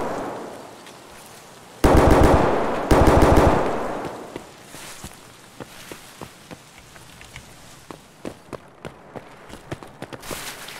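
Automatic gunfire erupts in Escape from Tarkov, two loud close bursts of rapid shots followed by a string of scattered single cracks and distant reports fading off, with no talk.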